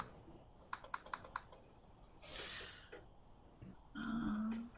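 Fingers tap a computer keyboard in a quick burst of several keystrokes, close and fairly quiet, followed by a brief rustle and a low hum with no talk.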